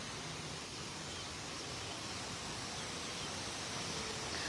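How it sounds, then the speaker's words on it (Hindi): A waterfall at a scenic spot in Kuala Lumpur, Malaysia, gives a steady, dense rush of falling water that holds even and loud throughout, with no distinct bird calls standing out. "ये झरने की आवाज और चिड़ियों की आवाज समा बांध रही है"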